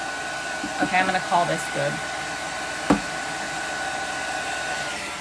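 A hair dryer blows steadily on fresh paint coating thrift store cloches, a close, continuous whooshing drone with a short burst of speech over it and a brief knock partway through.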